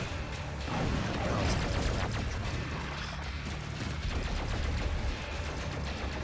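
Rapid gunfire in DOOM Eternal, a dense continuous fusillade of shots and impacts at moderate level, with no speech over it.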